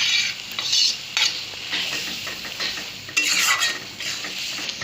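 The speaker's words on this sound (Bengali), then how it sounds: "এখন একটু নাড়বে।" Spinach and masoor dal stirred in a hot pan give a steady, close sizzle with scraping and stirring swishes and light clinks of a utensil against the pan, continuing without any talk.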